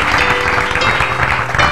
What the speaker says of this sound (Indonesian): Tuh tepuk tangan dong.